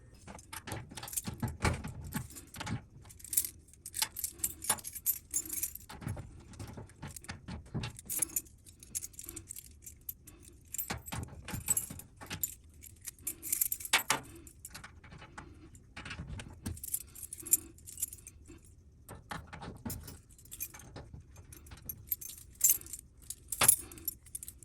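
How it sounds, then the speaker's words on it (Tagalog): A bunch of old unusable keys jangles in the hand in irregular metallic clinks and rattles, close and fairly quiet, with short pauses between shakes and no talking. "Meron ako ditong mga susi na hindi na magamit."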